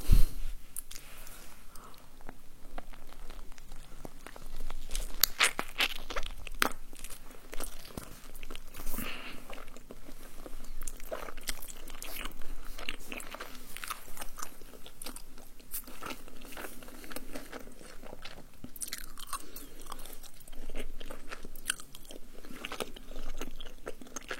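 Close-up crunching bites and chewing of tacos with fuego sauce, steady wet mouth sounds and crinkling wrappers filling the whole stretch, recorded near the mic with no talking.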